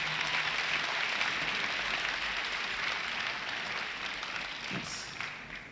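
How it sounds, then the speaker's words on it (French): Applause from a church youth gathering crowd for the organizing team, a steady dense wash of many hands clapping at moderate volume, tapering slightly toward the end with no talk over it. "Nous allons applaudir l'équipe d'organisation"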